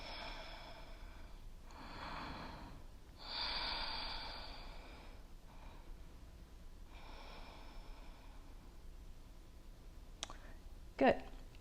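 Deep breathing in a yoga pose, several slow, faint, close inhales and exhales with soft airy rushes, ending in a couple of small clicks.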